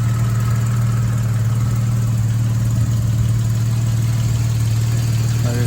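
A classic car engine idles steadily at a low 550 to 600 RPM, a constant loud low hum with a smooth, even rhythm running unbroken from start to finish.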